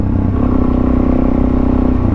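A Suzuki DRZ400 supermoto's single-cylinder engine idles loud and close, a steady rapid thumping pulse with a slight clattery edge.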